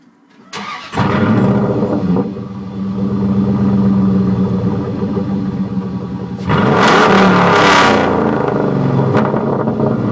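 A 2000 Dodge Dakota with straight pipes starts with a loud bark, settles into a rough, rumbling idle, then is revved hard near the end, the raw exhaust loud and close.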